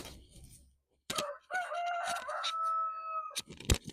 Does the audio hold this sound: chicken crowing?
yes